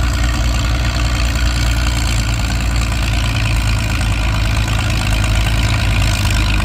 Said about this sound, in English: Being a diesel engine, those aren't regular horsepowers